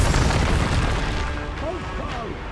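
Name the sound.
explosive spell blasts in Hogwarts Legacy video game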